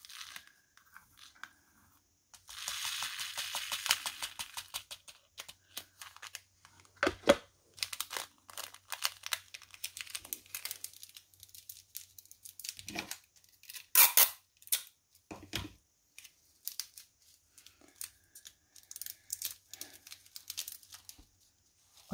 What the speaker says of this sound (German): ich will mal eben die Steinchen zurückschütten in die Tüte